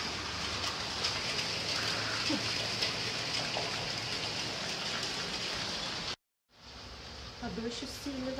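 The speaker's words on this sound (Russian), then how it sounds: "Дождь усиливается." Steady heavy rain pours outdoors in a dense, continuous hiss, cutting out abruptly for a moment before resuming more faintly.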